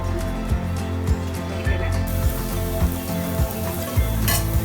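A steady bubbling and sizzling of okra sambar with tamarind cooking in a pot, continuous and close, with faint occasional clinks.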